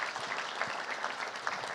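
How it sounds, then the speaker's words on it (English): Warm audience applause at an accounting institute's annual awards gala, a continuous dense wash of many hands clapping with no voices over it. "So again, warm round of applause for them."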